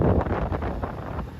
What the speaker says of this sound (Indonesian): Angin tambah kuat.